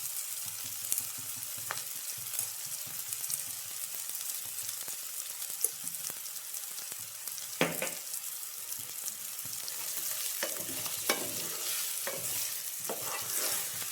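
Onions sauté with coriander powder in a pan for a bean, plantain and sweet corn dish, producing a steady close sizzle punctuated by repeated spoon scrapes and stirring knocks.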